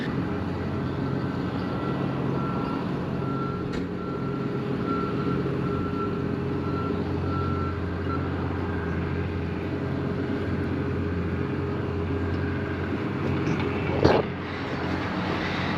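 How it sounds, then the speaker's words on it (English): An old dump truck raises its bed to dump its load while its tailgate swings open automatically. A steady engine and hydraulic drone runs under evenly spaced reversing beeps, ending with a sharp clank near the end. "that tailgate is automatically opening up as the bed is dumping"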